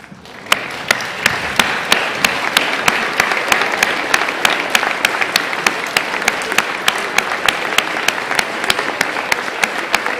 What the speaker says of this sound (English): And now I would ask all of you to stand and begin to applaud.